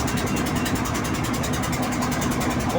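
Steady drone of a ship's engine on a river, a continuous low rumble with a faint regular pulsing and a steady hum, unbroken throughout with no talk.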